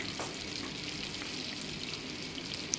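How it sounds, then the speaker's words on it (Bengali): Onions and chopped green chillies frying in a pan, giving a soft, even sizzle with faint crackles and light stirring throughout, heard at close range with no talking. "পেঁয়াজগুলো দিয়ে আমি একটু ভেজে নেব আর কাঁচা যে লঙ্কাগুলো কুচি করে রেখেছিলাম সেগুলোও কিন্তু আমি দিয়ে দিলাম"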